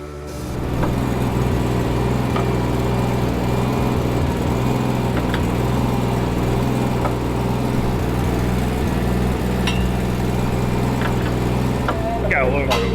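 Mazda 13B rotary engine swapped into an FRS, running at a steady idle with a loud, choppy, buzzing drone close up throughout, with brief voices and small clinks near the end.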